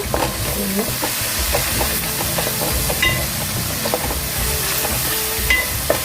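Spice powders (turmeric, coriander, cumin and poppy seed) fry in a pan for a Godavari-style pandugappa fish curry, giving a steady close sizzle with scattered stirring scrapes throughout, no voices.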